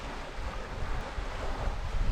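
Wind-driven waves run against the tide under a 10-knot southerly breeze on open water near a sailing boat. There is a continuous rushing wash of choppy water and gusting wind buffeting the microphone, loud and close, with no talk.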